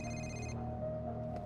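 A phone rings in Marvel's Spider-Man Remastered, The Heist DLC, a steady electronic trill that cuts off early, followed by a low sustained tone over faint game ambience.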